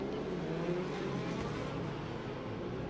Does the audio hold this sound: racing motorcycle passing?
yes